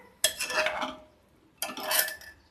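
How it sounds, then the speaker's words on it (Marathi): A spoon scrapes around a pressure cooker pot, stirring rice into water. Two distinct, close swishing strokes come about a second apart, with quiet between them. "व्यवस्थित मी ढवळून घेते आहे."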